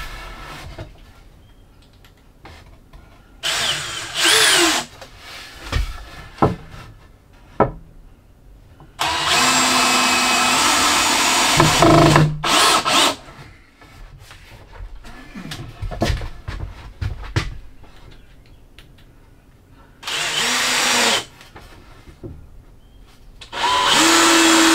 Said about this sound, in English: now I got something I can sit the piece of sheetrock on while I screw it in place